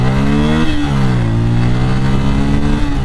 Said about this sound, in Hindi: बाइक चलाते हुए आपको फील होगा कि इसमें पावर है